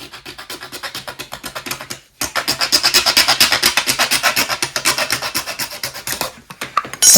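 An old wooden speaker box has its back panel cut, giving a steady run of rhythmic rasping saw strokes, close and loud, with a short pause near the start and a brief break near the end.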